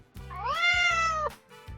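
A cat gives one drawn-out, clear meow close to the listener, rising then holding before cutting off, with soft low tones sounding before and after.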